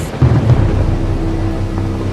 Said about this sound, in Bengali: বাইরে তুমুল ঝড় বৃষ্টি হচ্ছে